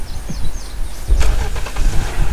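Car engine in the video game Unturned, a loud, close motor rumble that surges and wavers across a short stretch with no talking.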